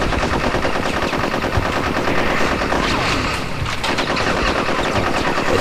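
Continuous video-game gunfire from Conker's Bad Fur Day, a dense, loud stream of rapid automatic shots filling the whole stretch with no talking.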